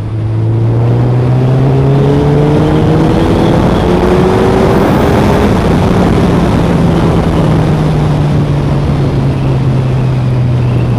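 A Suzuki GSX1300R Hayabusa is ridden on a long touring run, its engine droning loudly and steadily with the pitch slowly rising and falling, all under a constant rush of wind.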